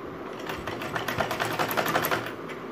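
A sewing machine runs steadily, stitching along a chalk-marked neckline on fabric, its rapid rhythmic clatter close and continuous for a few seconds without pause.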